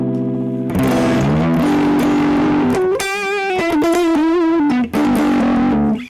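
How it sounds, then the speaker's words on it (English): Heavily distorted electric guitar through a distortion pedal playing sustained, buzzing notes and a bending, wavering lead line, loud and saturated with no voices. "that's what distortion is. It is distorting your guitar sound."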